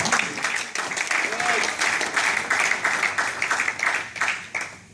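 A congregation at a youth conference in a hotel claps together in sustained applause, dense and loud with a rolling rhythm, fading slightly near the end.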